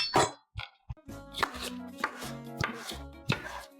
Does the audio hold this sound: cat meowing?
no